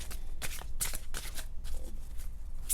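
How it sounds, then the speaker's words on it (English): Romance angel oracle cards being shuffled by hand, a close, steady run of soft riffling flutters and slaps with no talking. "Let me pull romance, angel, oracle cards here."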